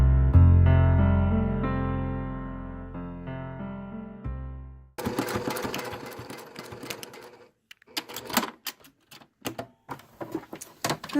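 A sewing machine runs close and loud in several sustained stitching bursts while binding the edge of 18th-century stays, followed by sharper intermittent clicks and clatters from the machine after it stops.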